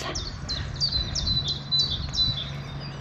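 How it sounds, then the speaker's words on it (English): A bird sings a rapid series of repeated, descending chirps, close and clear, over a low background hum. "It's full of birds."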